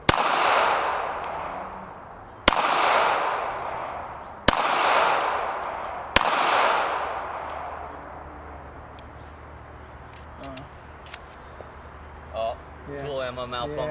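Four sharp, loud shots from a Smith & Wesson Bodyguard 2.0 pocket pistol, fired at spaced intervals, each with a ringing decay. Quieter ambient noise and small clicks follow.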